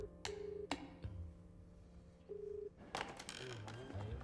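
A phone is dialed on speakerphone. Faint, separate beeps and tones come in short steps with gaps between them, and clicks and light rustling follow near the end.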